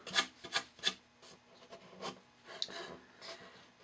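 A sanding block rubbed over balsa wood in short rasping strokes, three firm passes at first and then lighter uneven scrubbing, close up with no talk.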